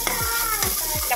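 Raisins frying in a pan while carrot halwa is made, a brief close sizzle with quick stirring strokes scraping through it, no voices.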